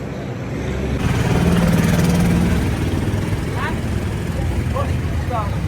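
Road traffic with CNG auto-rickshaws on a route from Khagrachari to Sajek: a loud steady engine and road rumble fills the scene, with a couple of brief horn-like chirps near the end.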